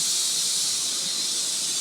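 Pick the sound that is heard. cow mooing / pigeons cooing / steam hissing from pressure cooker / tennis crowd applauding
steam hissing from pressure cooker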